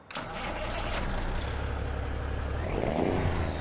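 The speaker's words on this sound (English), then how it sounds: "Let's fire it up from the outside so you can hear this beautiful engine." A semi-truck engine in American Truck Simulator starts up from outside, heard as a quick cranking catch followed by a loud, steady diesel idle rumble with a faint air hiss near the end.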